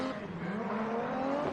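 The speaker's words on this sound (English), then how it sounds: "Cheeky trying to get the car to go sideways." Drift race car at a circuit struggling to slide sideways, its engine holding a steady strained drone with tire noise mixed in, close and continuous for a brief moment with no talk.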